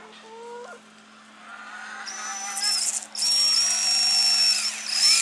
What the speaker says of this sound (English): right in this knot of the cabbage, we just drill a hole